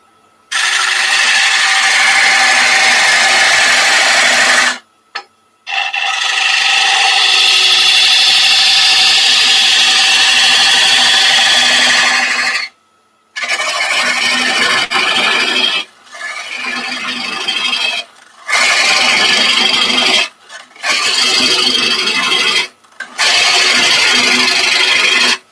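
A gouge cuts into spinning wood on a lathe in loud, close, raspy stretches, broken by several short silences between passes.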